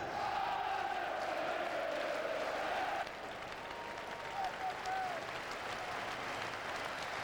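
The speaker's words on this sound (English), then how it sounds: "There was also special applause for Muzzy Izzet for all he'd done for the club" Crowd applause at a Leicester City football match, a loud sustained roar of clapping and cheering with shouts rising from the stands, easing slightly partway through but continuing throughout.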